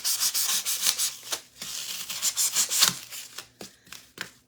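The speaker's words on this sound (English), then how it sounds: "I'm going to use some scissors just to kind of slice it down" Scissors slice down through gritty, dirt-laden material in a close run of short, scratchy rasping strokes with brief pauses between cuts.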